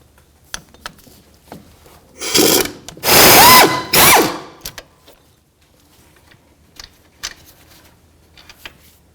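A ratchet fitted with an extension turns out a wheel hub bolt on a 2009-2014 Nissan Maxima during a front wheel bearing and hub replacement, giving a few loud bursts of rapid clicking near the middle, with quiet tool handling around them.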